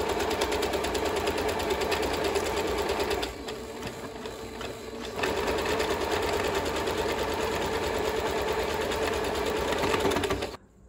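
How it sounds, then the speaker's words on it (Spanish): A sewing machine with a buttonhole presser foot stitches a buttonhole in a loud, fast, steady hum that pauses briefly midway, resumes, then stops, heard close with no talk. "Y vamos a comenzar a coser."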